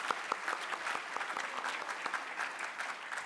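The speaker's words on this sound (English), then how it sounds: "a big round of applause to all of our nominees" An audience at a cultural diversity awards evening applauds the nominees, with steady, full clapping from a crowd heard throughout.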